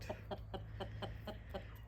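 Minorca hens, a Spanish laying breed, cluck in a steady rhythm, about eight short clucks in two seconds, fairly close, over a low background hum.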